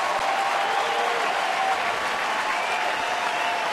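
A baseball stadium crowd cheers and applauds steadily as a pitcher takes the mound late in a Tigers home game, a dense, continuous wash of clapping and roaring that stays loud throughout.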